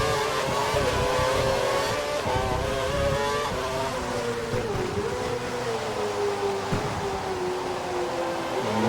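A Formula 1 car in the F1 2012 video game at Hungary drones with a continuous high engine whine that rises and falls through gear changes, with no talk over it.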